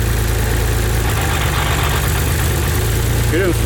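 A car engine idles roughly with one ignition coil not firing, giving a steady low, uneven throb up close while someone speaks over it.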